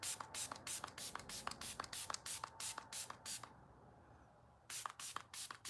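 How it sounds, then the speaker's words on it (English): Short, crisp bursts of D'Alba First Serum setting spray misted onto a face in rapid repeated pumps, a brief pause, then more sprays, close and loud. "next we're going to put some setting spray on our face"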